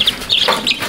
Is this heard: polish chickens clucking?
yes